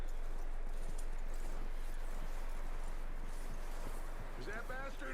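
Horse hooves clip-clop in a steady walking rhythm in the Red Dead Redemption 2 video game, moderately close over a constant low hum, with a brief voice near the end.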